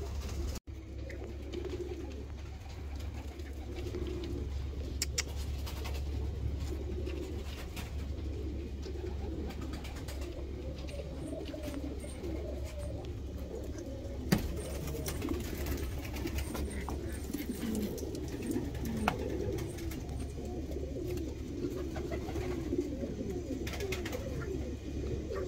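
Pigeons coo steadily over a constant low hum, a dense chorus of soft, rolling calls from show birds including black helmets, continuing throughout at moderate volume.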